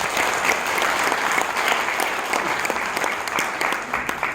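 Sustained applause from a crowd at a business breakfast forum in Incheon, loud and steady throughout with no break, filling the room on its own.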